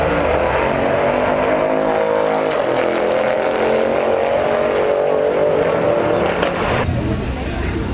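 Cars roar at a drag race, with a loud, sustained engine drone rising in pitch as they accelerate away. Crowd noise and voices mix in underneath.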